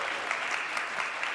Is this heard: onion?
no